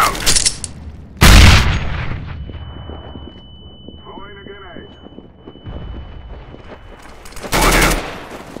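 A grenade explosion and gunfire in a combat video game, with a booming blast, scattered shots and rumbling, and a second loud burst near the end, while voices talk over the action.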